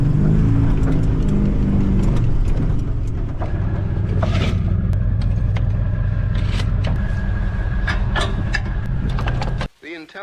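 An old truck fitted with tire chains plows snow, its engine droning steadily close by while metallic clanks and rattles from the chains and plow break through, ending with a brief clunk.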